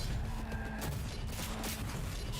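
Gunshots ring out as Goro is shot in Cyberpunk 2077: Phantom Liberty, a dense volley of loud, close blasts with crashing impacts over a constant noisy bed and no speech.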